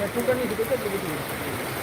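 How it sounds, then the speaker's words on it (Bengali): Steady, heavy rain hisses continuously at a beach on the Digha estuary while a voice briefly speaks underneath. "আর বৃষ্টিটা খুব জোরালোভাবেই হচ্ছে এই মুহূর্তে"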